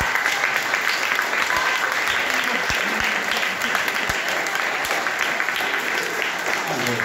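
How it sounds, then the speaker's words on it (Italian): An audience claps steadily, a dense wash of applause from a crowd that carries on throughout. "Bene, un bel applauso per Edoardo."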